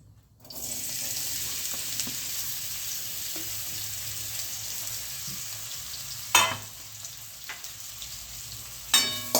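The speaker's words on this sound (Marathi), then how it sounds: "आणि याला छान असं फ्राय करून घेऊयात." Sweet potato pieces fry in hot ghee with a steady, close sizzle that starts abruptly and runs throughout, broken by a couple of sharp stirring clatters near the end.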